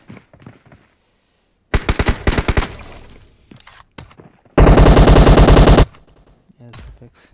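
Automatic M4 rifle fire in PUBG Mobile comes as two loud rapid bursts, one short and one longer sustained volley, separated by quieter gaps with faint clicks and game sounds.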